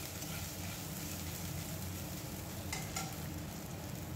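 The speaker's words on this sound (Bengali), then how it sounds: "এবার আমি এর মধ্যে দিয়ে দেব আদা আর রসুনের পেস্ট, খুবই সামান্য পরিমাণে" Ginger and garlic paste frying in hot oil in a pan, a steady close sizzle with stirring scrapes running evenly throughout, no voices.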